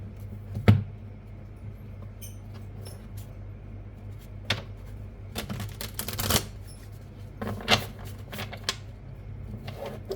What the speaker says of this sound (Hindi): कार्ड्स निकालते हैं आपके लिए।